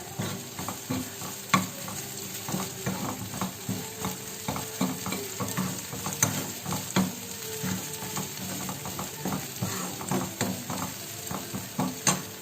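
Onions browned in a frying pan are stirred with ginger garlic paste, a spatula scraping and tapping in a steady rhythm over a continuous sizzle, close and moderately loud, with no talking.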